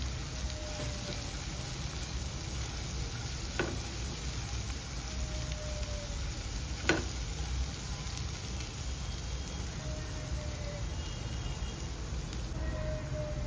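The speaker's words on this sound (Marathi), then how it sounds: "ह्याला पण छान परतून घ्यायचं कढीपत्ता टाकल्यानंतर." Curry leaves and bottle gourd sauté in a pan, giving a continuous hissing sizzle throughout with two brief clinks of a utensil.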